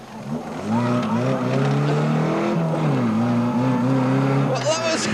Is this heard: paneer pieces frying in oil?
no